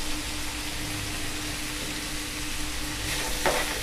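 Chopped beans and potatoes, salted, fry in a pan for vermicelli upma, giving a constant even hiss of sizzling oil up close with a brief scraping stir near the end.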